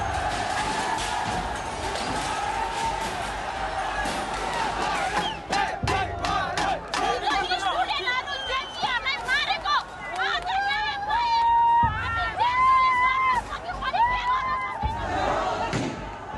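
A crowd of Gen-Z protesters storms Nepal's federal parliament building. Sustained loud shouting, cries and dense crowd babble continue throughout, with scattered thuds and bangs within the roar.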